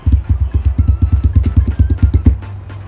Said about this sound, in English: tapping on the table